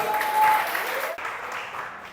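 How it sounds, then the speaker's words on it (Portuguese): A church congregation breaks into applause, a dense, even wash of clapping that briefly dips midway before continuing, moderately loud at a middle distance. "Dá um aplauso a Ele."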